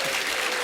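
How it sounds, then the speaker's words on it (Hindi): Audience applause at a motivational talk, a short dense burst of steady clapping filling the room with no voices over it. "इसके लिए भी तालियां बनती हैं।"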